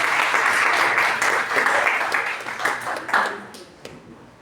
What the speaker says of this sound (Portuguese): Salve de palmas, pessoal, pro Anthony.